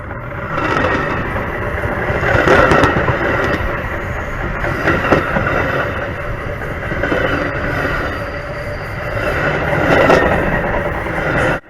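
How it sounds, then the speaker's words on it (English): CPKC train 500 pulling into an intermodal terminal, heard from right beneath the cars: steady rumbling rolling noise with rhythmic clickety-clack wheel beats swelling and easing over about twelve seconds. "I placed it underneath the train as 500 pulled into the station"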